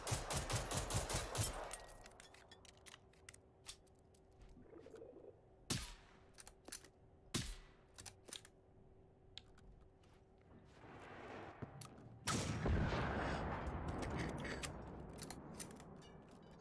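Gunfire in the video game Generation Zero: a loud burst at the start, then scattered sharp single shots and another sustained burst near the end, with game sounds in between.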